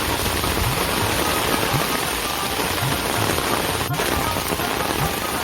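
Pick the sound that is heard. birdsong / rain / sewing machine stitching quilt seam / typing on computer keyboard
rain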